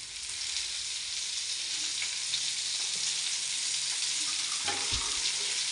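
Jalla fish fries in a pan with a steady, dense hiss and sizzle, fairly close, with a brief soft clink of the fish being turned near the end.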